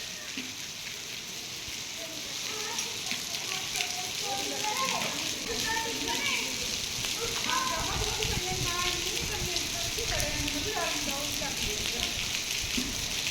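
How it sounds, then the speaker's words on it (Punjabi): Hail coming down together with rain outdoors, a steady broad patter and hiss that runs throughout while voices talk over it. "ਕੱਲੇ ਗੜੇ ਡਿੱਗਦੇ ਨਹੀਂ ਕਿ ਨਾਲ ਮੀਂਹ ਵੀ ਆ"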